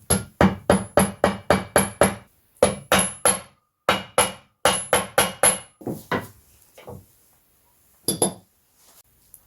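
A bushing is tapped with a hammer to drive a crankshaft seal into the timing chain cover of a BMW M60/M62 V8, sharp metallic knocks in quick runs of several blows with short pauses between.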